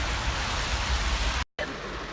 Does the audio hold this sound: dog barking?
no